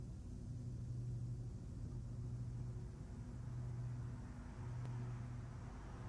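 An aircraft engine in Flight Simulator X drones at lowered throttle, a steady low rumble with a faint pulsing hum, heard alone.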